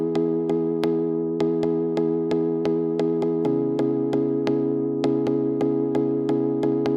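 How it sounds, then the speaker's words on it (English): A plucky synth plays chords in a Christmas song remix, short bright plucks struck in a steady rhythm over a sustained low pad, the chord shifting partway through. "Then there's this plucky sound that's playing the chords."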